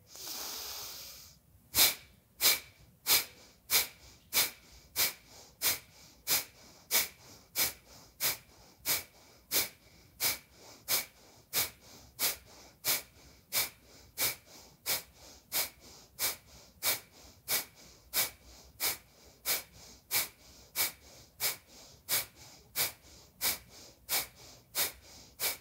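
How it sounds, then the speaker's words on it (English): Forceful, rapid breathing from a yoga practice of pumping the diaphragm, with sharp rhythmic exhalations at about one per second over a long steady run. The sound is close and loud, with quiet inhales in between. "inhale to 3/4 of your capacity, and then you'll begin to pump your diaphragm actively"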